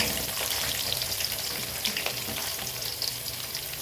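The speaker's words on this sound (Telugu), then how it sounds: "ఆనియన్స్ గోల్డెన్ బ్రౌన్ కలర్ వచ్చేదాకా ఫ్రై చేసుకోవాలి." Onions frying in oil for chicken fry, a loud, continuous crackling sizzle with occasional stirring scrapes, close up and without talk.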